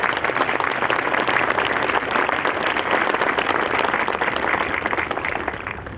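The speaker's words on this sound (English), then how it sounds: "If we could give them a round of applause." Steady, full applause from an audience at a press conference for a library branch grand opening, honoring participating students from West and East High, sustained for several seconds without talk.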